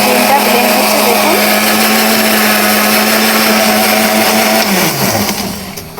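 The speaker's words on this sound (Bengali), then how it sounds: "ডিমটা ব্লেন্ড হচ্ছে দেখুন।" A kitchen blender whirs steadily as it whips four cracked eggs into froth, a loud continuous motor drone that holds for about five seconds and then winds down as the motor slows.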